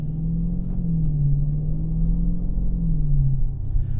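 Deep V8 rumble from a 2017 Dodge Challenger R/T Scat Pack cruising along, a steady low droning engine note that rises and falls gently with throttle, loud and close, with no talking.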